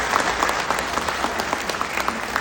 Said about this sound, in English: everyone again to give our adorable graduates a round of applause